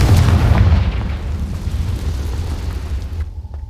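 A Confringo fire-blast spell explodes in a Harry Potter video game, one heavy close boom followed by a low rumbling decay that cuts off abruptly.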